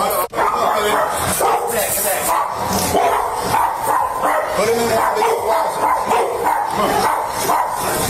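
A dog barks repeatedly in short, loud bursts during a tense police encounter at a house, with people talking over the barking.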